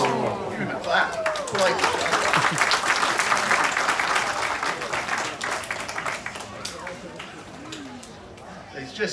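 A crowd at a live crocodile show claps for the handler's act; steady applause mixed with chatter and a voice talking over it, easing off in the last few seconds.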